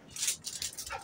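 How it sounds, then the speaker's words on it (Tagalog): A pet dog whimpers and yips in short, high, whining bursts, close by and fairly loud, with no talking over it. "Ang ingay ng aso ko."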